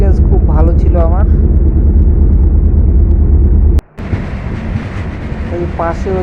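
Bangalore–Guwahati Express rolling along, heard from inside an AC three-tier coach as a loud, steady rumble that drops out briefly near the middle and then resumes, with faint voices at times.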